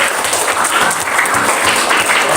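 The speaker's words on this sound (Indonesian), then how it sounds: "Tepuk tangan untuk kelompok 3 dulu" A class applauds a student group after its presentation, a loud, dense burst of clapping from many hands that carries on evenly throughout.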